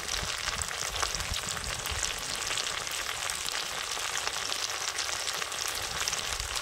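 Vegetarian jackfruit masala with chili powder and turmeric sizzling in hot oil, a dense, continuous crackle close by with faint stirring, no voices over it.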